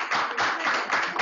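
Applause rings out from an audience at an academic lecture on migration, a steady, dense patter of clapping hands that holds at an even level throughout with no break.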